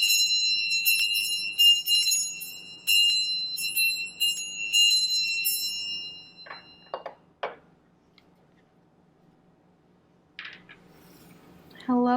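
A high, clear bell chimes several times, each tone ringing and fading, followed by quieter clinks and near silence.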